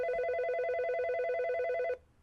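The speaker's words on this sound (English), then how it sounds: "One night, Rick Kelly got a phone call from Auburn police." A telephone ringing steadily for about two seconds with a bright electronic warble, close and clear, then cutting off abruptly into quiet.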